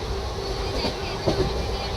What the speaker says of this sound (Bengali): খুব জোরে ট্রেন যাচ্ছে